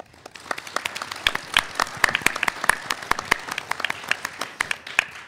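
A school audience applauds the teams at a Texas middle school quiz show, a dense patter of many hands clapping steadily and fairly close, with no talking over it.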